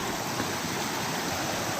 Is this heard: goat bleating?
no